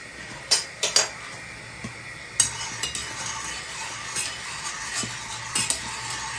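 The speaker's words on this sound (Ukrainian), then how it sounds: "Закручуємо такий типу віхер робимо" A spoon swirls a pot of just-boiled water into a whirlpool before an egg is poached, giving soft clinks and scrapes against the pot in irregular bursts over a steady bubbling hiss, close and fairly quiet.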